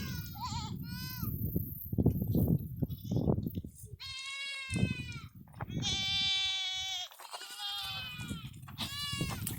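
About 70 goats in a pen bleat loudly and repeatedly during hay unloading, overlapping cries from a crowd of animals close by, with rustling and occasional talk between them.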